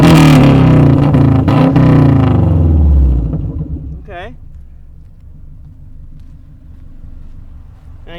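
A 1993 Subaru Legacy with a turn-down dump exhaust revs loudly up close, then the engine note falls away to a low idle rumble; a voice briefly speaks.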